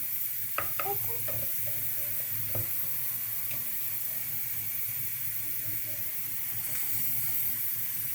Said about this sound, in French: Je mélange bien pour avoir un mélange bien crémeux.